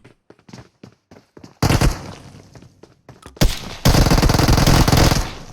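Automatic gunfire from an Uzi and SKS rifle trades in PUBG Mobile, starting with scattered sharp pops, then erupting into two loud, sustained bursts of rapid shots near the listener.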